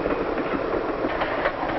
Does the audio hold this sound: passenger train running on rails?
yes